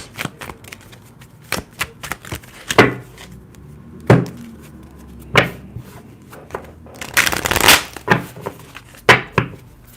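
Tarot cards shuffled by hand for a reading, a run of separate sharp snaps and riffles at uneven intervals with a denser burst near the end, close and clear, no speech.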